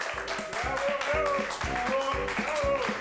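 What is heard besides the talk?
studio audience applause welcoming a guest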